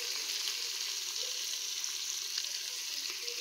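Steady, continuous sizzle of chicken biryani ingredients frying in hot oil, a bright even crackle with no talking over it.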